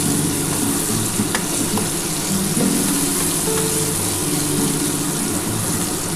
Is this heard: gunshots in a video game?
no